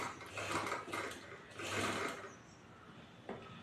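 A sewing machine stitches a straight seam on a blouse in two loud bursts of rapid mechanical whirring, then falls quieter with a brief clack near the end; no one talks.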